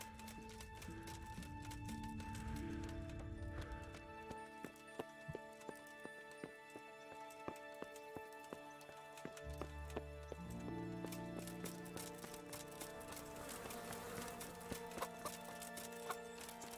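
Rhythmic horse hooves clip-clop through a medieval-style video game scene, with a quiet hollow stretch mid-way and a busier bed of ambience and music around it.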